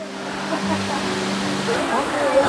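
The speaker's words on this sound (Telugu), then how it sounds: "అదిగోండి బ్యూటీ, బ్యూటిఫుల్ వాటర్ఫాల్." A waterfall at Tianmen Mountain near Zhangjiajie, China, gives a steady broadband rush of falling water throughout, with a low hum and faint voices in the background.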